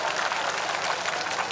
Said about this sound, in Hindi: अरे इस पे तो ताली बजाओ ना।